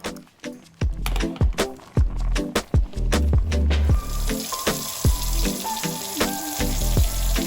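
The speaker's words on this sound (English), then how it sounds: "get our noodles out because now they are ready to be rinsed and drained, or drained and rinsed" Cooked spaghetti noodles drain and rinse in a kitchen sink: a running faucet stream with splashing water and hollow knocks and clanks of a pot or colander against the basin, close and continuous.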